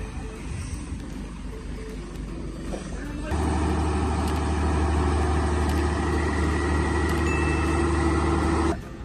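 A big truck engine labors loudly while climbing a hill, a deep droning roar that steps up sharply partway through and holds steady, with speech faintly underneath at the start.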